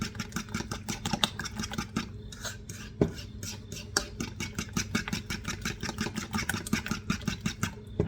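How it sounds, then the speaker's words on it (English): Eggs beaten by hand in a bowl for corn muffin batter: fast, steady rhythmic clicking strokes of a whisk or fork against the bowl, close and continuous. "we got to beat these eggs and stuff"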